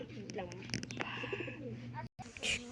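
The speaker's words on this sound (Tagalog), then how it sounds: "Ito mga kalapatids." Pigeons coo softly and repeatedly at close range, their low throaty calls blending with voices speaking nearby in a busy spot.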